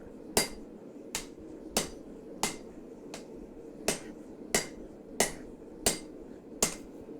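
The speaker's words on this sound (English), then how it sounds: "I love hammering out handles." Steel knife handle being hammered out by hand at a forge, with about ten loud, sharp metallic strikes at a slow, steady rhythm, each ringing briefly over low background hum.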